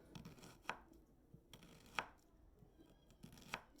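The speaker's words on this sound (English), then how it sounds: "we're going to cut this onion" A knife dices an onion for leek potato soup with three sharp chops against a board, spaced about a second apart, over quiet kitchen background.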